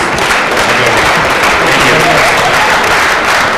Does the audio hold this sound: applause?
yes